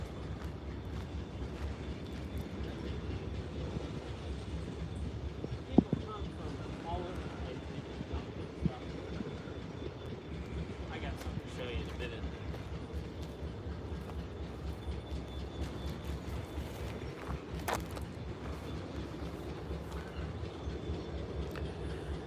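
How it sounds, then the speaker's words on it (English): A Norfolk Southern or CSX train rolls through Chattanooga, Tennessee, with a steady rumble and rhythmic clickety-clack of wagons over rails and an occasional brief squeal, while someone talks over it. "The train there that you see is heading north."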